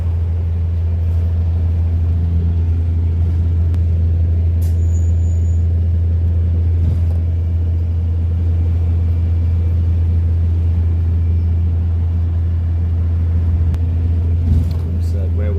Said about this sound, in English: So traffic's always heavy anyway in London